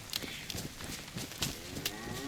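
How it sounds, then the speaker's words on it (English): A cow moos repeatedly in the survival video game DayZ, a loud, close, drawn-out lowing over a grainy outdoor background, with no speech. "Oh, it's a cow."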